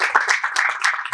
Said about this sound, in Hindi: Please guys have a great round of applause.